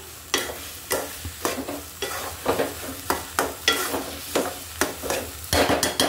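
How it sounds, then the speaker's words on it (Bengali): Sweet vermicelli (semai) is stirred in a pan on the stove, a regular rhythm of about a dozen scraping strokes over a low sizzle, close and clear with no talking. "এবার আমি আরেকটু চুলাটা জ্বালিয়ে সবগুলো ভালো করে মিশিয়ে নিচ্ছি"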